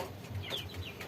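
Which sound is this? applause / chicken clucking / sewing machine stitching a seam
chicken clucking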